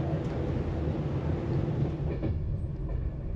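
An Avanti Pendolino train pulls slowly out of London Euston station, heard from inside as a continuous low rumble with faint wheel clatter, steady and close, with no speech.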